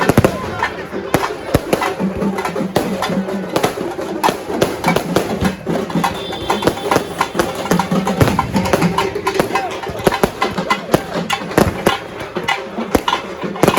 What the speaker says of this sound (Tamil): வான வெடிக்கையும் வெடிக்கிறாங்க பாருங்க